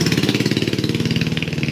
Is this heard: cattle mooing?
no